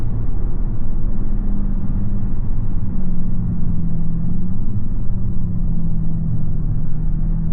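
Loud, steady low rumble of a 2025 RAM 3500 dually diesel truck engine with its exhaust brake engaged at night, in tow haul mode, droning continuously with a slight shift in pitch.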